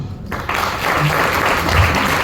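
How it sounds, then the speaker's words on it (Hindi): An audience at a Chhattisgarhi film event claps for the director, a brief burst of dense applause that starts abruptly after a quiet moment and stays loud and steady to the end. "एक बार और जोरदार ताली होना चाहिए निर्देशक महोदय का।"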